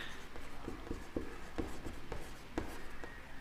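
A pen scratches across paper during a math solution, making quiet, short strokes in an uneven rhythm, close to the microphone, with no talking over it.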